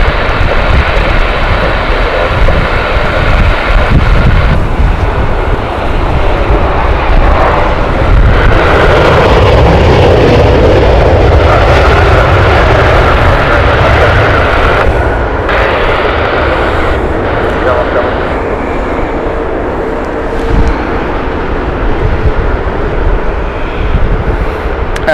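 A Delta Airbus neo airliner arriving at Heathrow Airport produces a loud, sustained broadband jet roar that swells and slowly fades as it passes nearby, with no voices.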